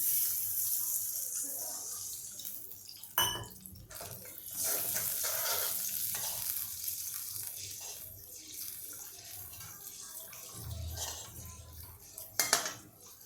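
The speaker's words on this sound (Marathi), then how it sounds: "तर आता मी याच्यामध्ये थोडं पाणी घालते" Roughly half a glass of water poured into a pan of Baghelkhandi Indrahar curry made with gram-flour dumplings, giving a soft, quiet gush with a couple of brief utensil clinks close by.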